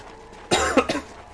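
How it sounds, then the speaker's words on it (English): A short burst of two or three harsh, close coughs from one man, then quiet. "I don't know where this cough is coming from"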